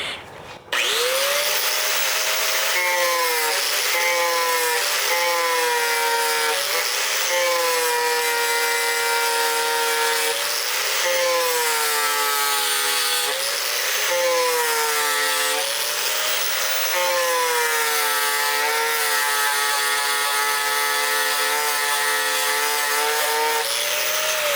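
A sanding pad grinding the edges of a wooden circle, a loud close whining rasp in repeated strokes whose pitch rises and falls with each pass, continuing steadily throughout.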